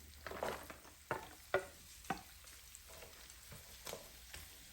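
Onions fry in a pan with sardines, a soft sizzle under several distinct stirring scrapes and spatula knocks spaced a second or so apart, quiet and close.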